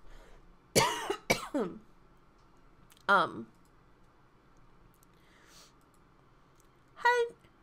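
Several harsh coughs close to the microphone, a quick pair followed by a single cough, then a short throaty sound near the end, with quiet background between.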